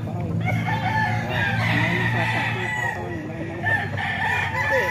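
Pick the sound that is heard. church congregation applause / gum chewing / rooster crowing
rooster crowing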